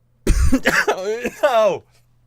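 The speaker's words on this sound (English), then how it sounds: "It's just me coughing the whole time." One person coughs in a short, harsh burst of several hacks that trail into a raspy, voiced ending, close and fairly loud.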